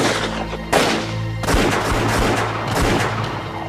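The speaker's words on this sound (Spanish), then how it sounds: "así que empezamos a disparar" Gunfire in a battle between soldiers and guerrillas, with dense, loud bursts of shots and booms crackling continuously, with no voices.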